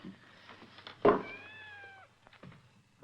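A cat gives one drawn-out meow that rises and then falls. It is close and clear in a quiet room, preceded by a brief knock, with faint rustles after.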